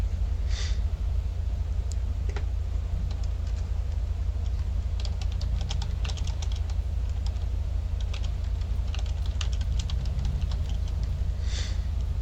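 Intermittent clicks of typing on a computer keyboard, scattered taps in short bursts over a steady low hum, fairly faint and close.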